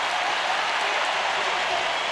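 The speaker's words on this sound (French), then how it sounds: "toute la tribune se lève là devant nous pour faire une salve d'applaudissements" A stadium crowd at the Zurich Diamond League athletics meeting in 2015, around the men's 400m hurdles, gives a sustained, dense wash of applause, with a commentator's voice running beneath it.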